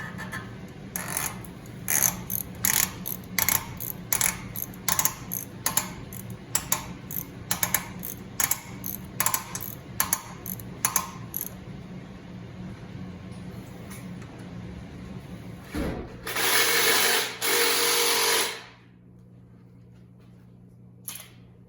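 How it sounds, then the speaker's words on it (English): Wheel studs on an Audi Q5/SQ5 are tightened down, producing a long, even series of sharp ratchet clicks over a low steady hum, then a loud rushing burst before the clip goes quiet. "Now I got all the studs tightened down"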